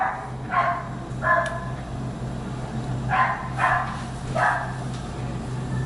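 A neighbour's dog barks in several short bursts, a few spaced yelps over a low steady background hum, heard from a moderate distance with no talking.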